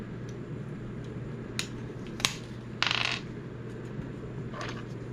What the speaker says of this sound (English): Just putting my bits back away.